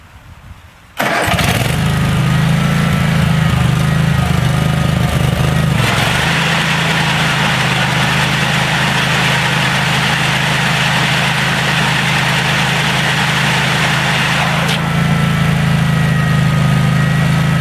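A DR brush hog engine fires up with no choke after a carb clean-out, catching within about a second and then settling into a steady, loud, close idle that runs uninterrupted.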